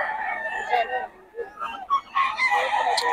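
A rooster crows at a festival expo, its long strained calls rising twice over crowd murmur, loud and close.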